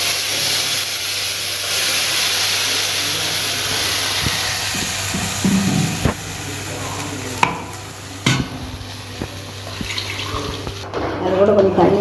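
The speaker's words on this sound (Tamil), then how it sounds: "இதில் கூட சட்னி ஊற்றி" Chutney poured into a hot tempering of onion, curry leaves and chillies in oil, a steady hiss and sizzle broken by a few sharp clinks of a spoon against the pan, then bubbling and stirring.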